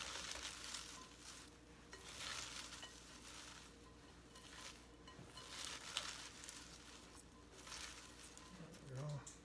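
Shredded cabbage being tossed and mixed with salt for a small batch of sauerkraut, giving a steady close-up crunchy rustling and squishing that swells and eases in waves for several seconds.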